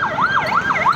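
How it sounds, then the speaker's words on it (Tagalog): An ambulance siren wails in a steady up-and-down sweep, fairly loud and close, cycling about three times with faint road noise beneath. "Ayan, may ambulance."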